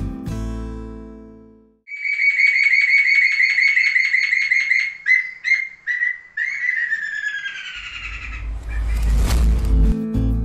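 A rufous-fronted laughingthrush sings a series of loud, clear whistled notes that rise and fall, ending in a noisy, chattering flourish.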